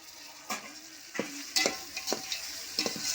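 Chopped tomatoes added to frying onions for tomato biryani, stirred with a spoon: a soft sizzle under several distinct scraping strokes spaced across the moment, close and clear.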